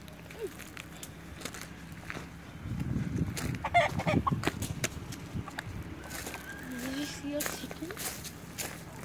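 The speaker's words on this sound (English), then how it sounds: "Why are there a lot of roosters?" Roosters and chickens cluck in a farmyard, a busy burst of clucking in the middle with scattered calls around it, while footsteps crunch and people talk nearby.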